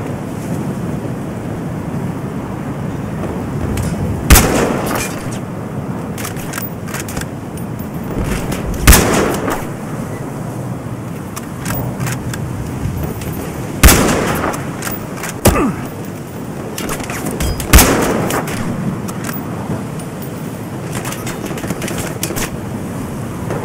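Sharp gunshots ring out in the Battlefield Hardline video game, about five isolated cracks spaced several seconds apart over a steady windy, hissing ambient background.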